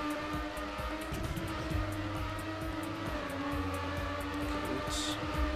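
Race car engine in Trackmania United Forever holding a steady, loud drone as it accelerates, with rising tonal engine harmonics and brief tire noise throughout, no talk.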